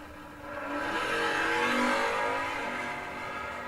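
A blue B5 Dodge Charger drag race car launches at a bracket drag strip, its engine swelling into a loud, sustained roar that peaks and then eases slightly, heard up close.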